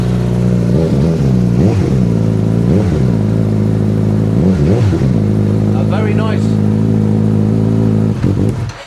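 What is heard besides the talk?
motorcycle engine starting and revving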